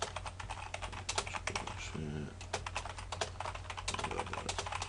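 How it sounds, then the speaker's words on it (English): Rapid, continuous clatter of keys being typed on a computer keyboard, close and steady throughout with a brief faint voice in the middle. "you're just going to type in"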